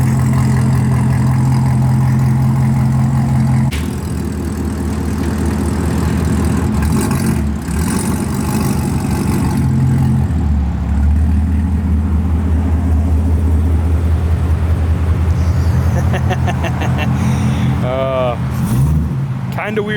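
A C7 Corvette Z06 with a new loud aftermarket exhaust rumbles steadily at close range, deep and throaty, with a rev change near the end.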